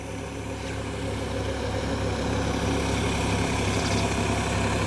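A tractor running a Shaktiman rotavator fitted with new blades gives a steady, loud engine drone and low rumble that carries through the whole stretch without any speech.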